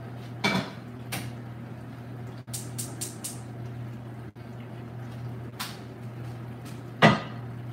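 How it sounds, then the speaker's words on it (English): Dishes and pots clatter in a kitchen sink during soaking, with a few sharp clanks and clinks scattered over a steady low hum; no one speaks. "I was over here soaking dishes"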